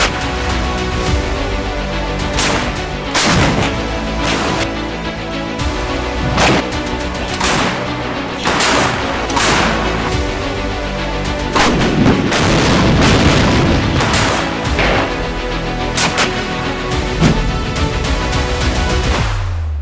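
Tracked self-propelled 155 mm howitzer firing a sequence of loud artillery rounds, heavy booming shots repeating every couple of seconds with rumbling echoes between them, no talk.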